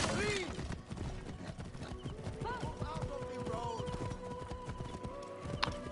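A horse gallops in Assassin's Creed Origins with a rapid, rhythmic clip-clop of hooves under game music and character speech, plus a brief whinny.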